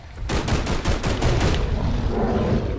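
Gunfire in the Bigfoot video game: a rapid, loud volley of about eight close shots in quick succession, then a lingering rumbling tail as the firing stops, with no talking over it.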